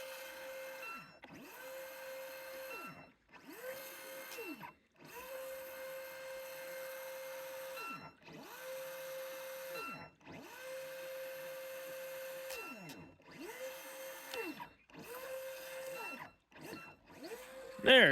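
Rage RC Torrent 450BL jet boat's brushless motor on 3S power, whining in repeated high-pitched throttle bursts with brief pauses between them as it tries to flip itself back over, close and steady with no talk.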